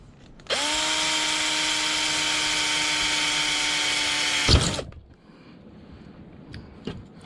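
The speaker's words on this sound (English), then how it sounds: "Next thing we want to do is drill 4 holes." A power drill whines steadily for about four seconds, close and loud, drilling holes in a can, then stops abruptly with a clunk, leaving faint rattles.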